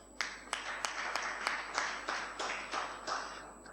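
A lecture hall audience claps for a speaker at a Vedic science refresher course, a steady spread of many hands with sharper collective bursts at regular intervals, no voices.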